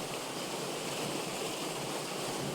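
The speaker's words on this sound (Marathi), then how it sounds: "हे पाहू शकता कशा पद्धतीने ही जी पाणी आहे हे धरणामध्ये येत आहे" Water rushing into Majalgaon dam makes a steady, broadband roar that holds constant throughout, close and fairly loud, with no voices.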